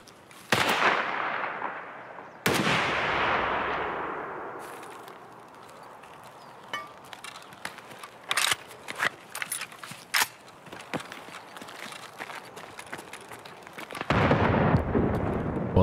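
Gunfire from a firefight in Escape from Tarkov: a few loud sharp booming shots with long rolling echoes, then a scatter of fainter distant cracks, ending in another heavy burst.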